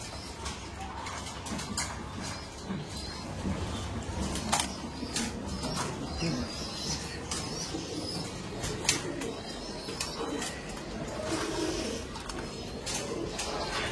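Banded pigeons coo in a loft, soft repeated throaty calls layered with scattered chirps and light clicks, steady and moderately close.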